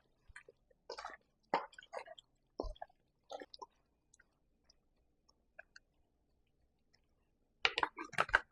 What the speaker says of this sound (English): Now I'm going to massage the seasoning in the oxtail.